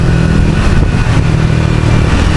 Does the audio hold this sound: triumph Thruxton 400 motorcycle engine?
yes